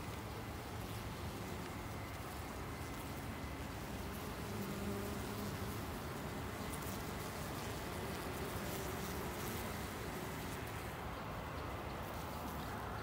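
Dense, continuous buzzing of many honey bees around a hive, close and steady throughout, with faint wind underneath.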